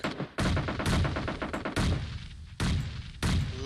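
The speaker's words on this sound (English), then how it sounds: "Look at all those nades." Grenades in a competitive first-person shooter scrim burst in quick succession, several loud sharp blasts with short decaying tails, spaced irregularly across a few seconds with no talking.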